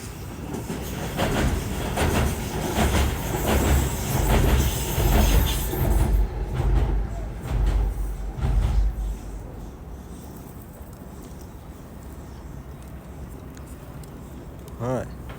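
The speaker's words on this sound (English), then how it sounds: "Got a little train over here, DJI train." A train rumbles past on an urban rail line at Stratford, London, loud and close with clattering wheels for about eight seconds before the noise drops away to quieter ambience; someone talks in places.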